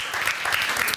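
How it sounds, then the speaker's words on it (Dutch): Audience applause at a panel discussion on decent work, a dense, steady round of clapping from many hands in a hall, close and continuous with no talking. "eerst een applaus"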